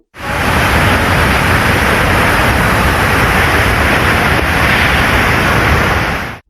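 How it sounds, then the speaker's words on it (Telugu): About 24,000 cusecs of floodwater pour from ten raised reservoir gates into the Godavari river, making a loud, unbroken roar of rushing water that holds steady from start to finish with no other sounds. "జలాశయం వద్ద పది గేట్లను ఎత్తి ఇరవై నాలుగు వేల క్యూసెక్ల వరద నీటిని దిగువన ఉన్న గోదావరి నదిలోకి విడుదల చేస్తున్నారు"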